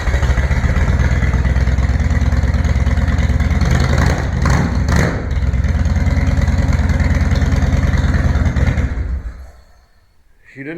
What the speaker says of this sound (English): Let's see if I can fire her up, because I don't winterize my bike.